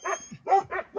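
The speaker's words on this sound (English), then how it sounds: "Look at that dog out there. That crazy puppy." A puppy outdoors barks several times in quick succession, short yappy barks that are close and clear over quiet surroundings.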